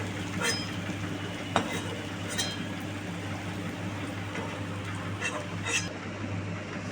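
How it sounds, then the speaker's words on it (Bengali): Banana flower fritters fry in oil, a continuous soft sizzle with a few brief spatula taps and clinks, close but moderately quiet, with no voice heard. "বড়া আমার ভাজা হয়ে গেছে, আর এই বাকি এইগুলো ভাজছি।"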